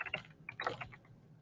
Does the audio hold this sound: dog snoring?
no